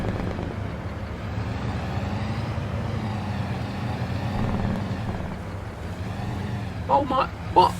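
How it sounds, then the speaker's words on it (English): Steady tractor engine drone in Farming Simulator 22, a low continuous rumble running throughout, with brief sharper noises near the end. "I love the sound of the engine."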